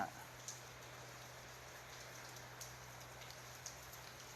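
Steady rain falls on surfaces at the Bangsaen seaside, with occasional louder drips and taps standing out against the soft, continuous patter.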